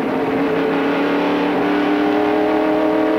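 NASCAR stock cars accelerating on a race restart at the 1993 Splitfire Spark Plug 500, a loud, continuous, dense engine roar from several cars at once, with no talk over it.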